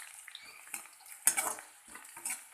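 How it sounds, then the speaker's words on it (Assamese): Onions fry in oil in a wok with a soft, uneven sizzle, broken by light clinks and stirring scrapes of a utensil against the pan, close by and fairly quiet. "গেছটো জ্বলাই পিঁয়াজ দি দিছোঁ কেৰাহীত"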